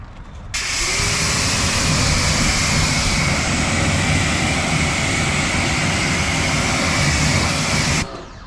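Water spray from a hose or pressure nozzle rinsing car wheels and lug nuts, a loud steady hiss that starts abruptly, runs unbroken for about seven seconds, then cuts off, with no talking.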